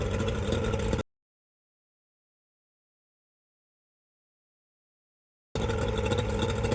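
A Mercury 150 outboard engine runs at a steady idle, a constant mid-pitched drone heard briefly at the start and again at the end, separated by a long stretch of total silence.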